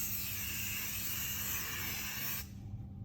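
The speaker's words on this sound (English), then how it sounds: "Black spray paint." A continuous hiss of a black spray paint can for a couple of seconds, close and steady, then cutting off abruptly into quiet.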